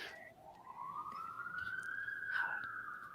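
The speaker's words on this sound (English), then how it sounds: "A lot of sirens in my environment today." A single police siren wails once outside, faint and distant, rising and then holding its tone over quiet room noise.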